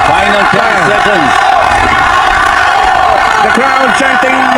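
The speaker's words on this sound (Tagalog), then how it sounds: "the crowd chanting Magsayo" A boxing arena crowd chants a fighter's name in a loud, rhythmic, repeated call, the sound filling the venue in dense waves.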